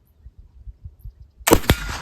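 Single sharp black powder gunshot using homemade powder made from old fence boards, a sudden loud near blast after quiet low rumbling, followed by a short ringing decay.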